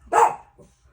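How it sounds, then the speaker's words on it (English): A single close, loud bark from a dog indoors, one short burst followed by a faint trailing sound, during a crafting session on a Christmas junk journal. "this infernal barking is making me crazy"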